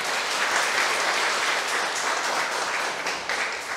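A church congregation applauds the choir during a Sunday worship service in Seoul: steady, dense clapping from many hands, fairly close and even, lasting about four seconds with no talk over it.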